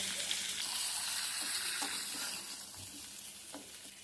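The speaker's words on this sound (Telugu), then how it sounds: "మనం కోసి పెట్టుకున్న ఈ గుమ్మడికాయ ముక్కలు పెట్టాలి." Pumpkin pieces cooking in a pan over a low flame, giving a steady, faint hiss of frying with occasional soft stirring taps.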